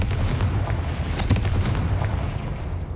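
A Confringo fire blast spell explodes in Hogwarts Legacy, a deep booming burst over a constant low rumble, with a sharp crack near the middle and no talking.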